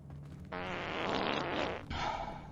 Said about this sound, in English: Would you like me to play another fart sound?